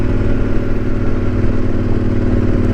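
A Yamaha Super Tenere highway motorcycle carries two riders along the road, its engine giving a loud, steady, close drone with constant rumble and no talking.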